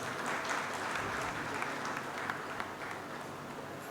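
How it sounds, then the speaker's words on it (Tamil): A large audience claps steadily, a continuous wash of applause heard from a slight distance. "ஆனால் இவ்வளவு கைத்தட்டல் வாங்கின ஒரு பேச்சாளரை நான் இப்போ தான் பார்க்குறேன், மணிகண்டன் அவர்கள்."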